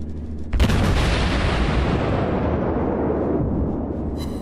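Naval cannon fire from the Atago, a Japanese heavy cruiser, in World of Warships: after a brief lull, a loud close broadband boom erupts and rumbles on, decaying slowly over several seconds.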